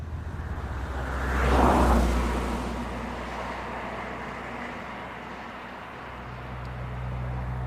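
A Citroën DS21 Pallas car is driven, a steady engine and road hum that swells briefly near the start and then settles into a continuous drone with no talk.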